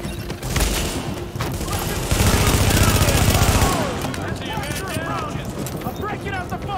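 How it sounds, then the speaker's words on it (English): Gunfire crackles in The Division video game, with rapid automatic bursts building into a dense, loud fusillade in the middle before thinning to scattered shots. Voices talk over the combat. "Reporting gunfire in the station above us."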